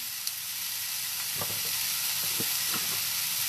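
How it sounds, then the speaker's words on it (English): Capsicum and onion sizzle steadily in a pan, a dense frying hiss that runs throughout with a few soft knocks as the vegetables are tossed. "So you just want to basically give the capsicum and onion a good little toss through. Just brown it off nicely."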